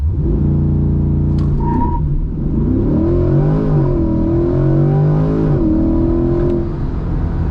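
A Chevrolet C8 Corvette Stingray launches hard from a standstill on a hot day, its engine roaring loudly and climbing through the gears in steady rising sweeps, heard from inside the car.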